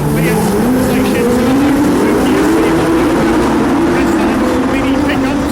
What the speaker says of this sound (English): A sprint race for the saloons.